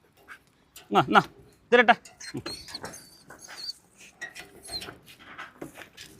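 A dog that has stayed in its cage for two years steps out, giving soft whimpers and panting close by while a person talks and calls to it.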